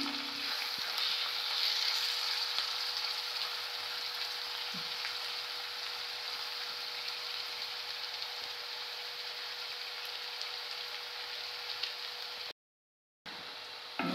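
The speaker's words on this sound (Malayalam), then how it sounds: "വെളുത്തുള്ളി നല്ലപോലെ ഇളക്കി കൊടുക്കാം" Garlic frying in oil for a beef dish gives a close, constant hiss of sizzling, with faint stirring under it. The sound cuts out briefly near the end.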